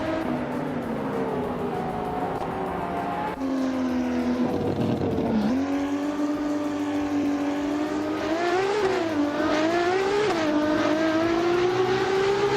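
Ferrari F50 GT race cars in a video game, high revving engines droning and climbing through gear changes on a tight track, loud and steady with brief tyre noise and no talk.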